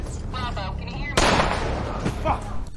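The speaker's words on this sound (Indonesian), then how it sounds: "terdengar suara tembakan" A sudden loud gunshot bang cuts through an action movie soundtrack, with a voice speaking before it and echoing noise trailing after.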